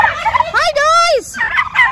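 Turkeys in a pen gobble loudly and close by, a rapid rattling gobble call with a rising and falling wail in the middle, followed by further chattering gobbles.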